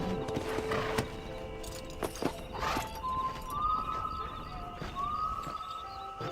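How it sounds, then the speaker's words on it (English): A horse in the Red Dead Redemption video game, with hoof clip-clops and a brief whinny close by, over ambient game sounds and sustained tones. "Cavalo aqui, sempre tá aqui."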